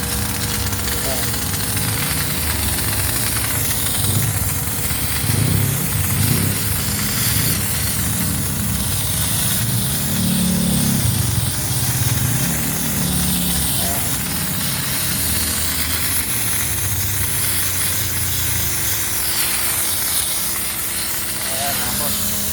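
Air compressor powering a foaming machine, a steady loud hissing and humming drone running continuously throughout, with people talking over it.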